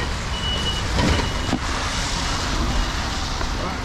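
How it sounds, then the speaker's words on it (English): A bus approaching on a street in China, a loud continuous broadband engine and road roar filling the scene with a faint high whine, steady and close with no talk. "Oh, there's a bus coming."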